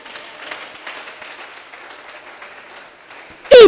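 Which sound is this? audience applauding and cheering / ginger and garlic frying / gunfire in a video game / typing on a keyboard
audience applauding and cheering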